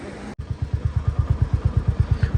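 After a brief cut, a motorcycle engine idles nearby at Govindghat on the climb toward Hemkund Sahib, with a steady, even putter of rapid exhaust pulses.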